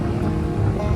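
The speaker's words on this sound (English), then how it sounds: "the waves are huge" Large ocean waves at Cocoa Beach give a loud, close, continuous rushing roar of surf with no voices over it.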